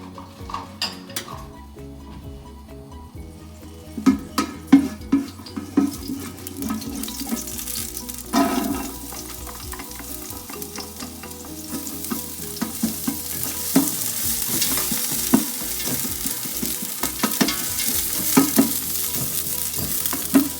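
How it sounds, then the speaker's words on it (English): Onions sizzle in oil in a pot while a utensil stirs and scrapes, the frying swelling louder as the stirring continues, with no talk. "I will just kind of saute some onions"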